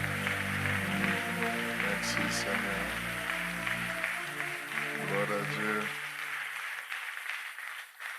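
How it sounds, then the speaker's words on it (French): A church congregation at a prayer marathon service claps and cheers in praise of God, a dense, wash-like mix of applause and voices that thins and fades toward the end as a speaker talks. "Est-ce que nous pouvons donner une bonne acclamation à Dieu?"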